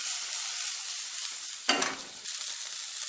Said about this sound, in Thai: ทุบกระเทียมค่ะเพิ่มความหอม ใส่ลงไปเลย